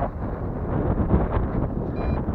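Wind buffets a microphone outdoors while a drone hovers, a low rumbling gusty roar that swells and dips unevenly, loud and close.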